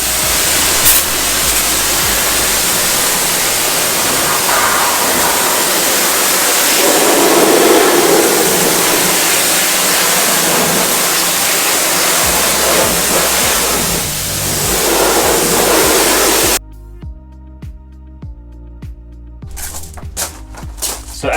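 A pressure washer sprays a steady, loud rush of water over a car, rinsing off pre-wash product. The spray runs continuously before cutting out near the end, and some faint music follows.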